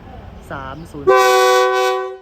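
Commuter train no. 304 arrives at Ban Phachi station with a loud horn. A short tonal toot comes first, then a long, steady, close blast that lasts over a second before it fades.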